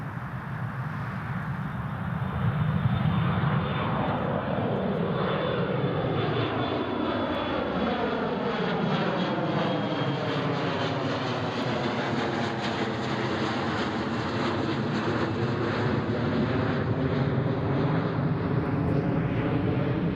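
A fixed-wing airplane takes off from the runway at Newcastle International Airport, its engine roar loud and sustained, with a rising and then falling whine as it climbs away, and no talk over it.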